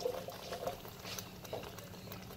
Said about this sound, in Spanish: aquí ya está hirviendo todo el sofrito con todo lo que le puse